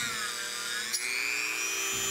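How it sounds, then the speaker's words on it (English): A power drill bores holes into a thick aluminum case, a steady high-pitched whine with a brief pitch dip near the middle as the bit bites, close and continuous with no talking. "Here I'm just going to drill holes where I mount each of the slide pods to the case."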